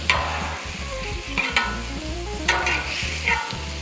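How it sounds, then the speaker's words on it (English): Butter melting on a hot Blackstone griddle, a close steady sizzle broken by several sharp scraping and tapping hits at irregular intervals, with no voices. "We're going to take some butter, put it down in a toasty spot, wait for that butter to melt a little bit"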